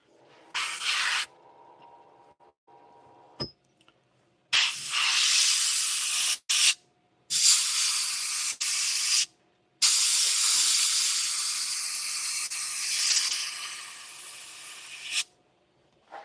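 Solid white paint sprayed onto a wooden piece, hissing in several bursts of a few seconds each with short pauses between, close and steady.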